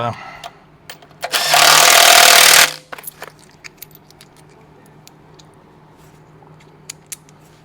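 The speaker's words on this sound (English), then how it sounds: "we're going to go ahead and putting 10 more bolts in, 9 more bolts in" A power tool drives bolts into a Big Cam Cummins diesel engine: one loud continuous whirring burst of about a second, followed by scattered metallic clicks and clanks of nearby handling.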